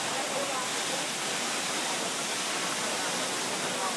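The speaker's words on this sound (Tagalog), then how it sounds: "this is the Buong-Ulanan Falls." Bongolanon Falls pours down in a continuous, loud, broadband roar of falling water that fills the whole scene without a break.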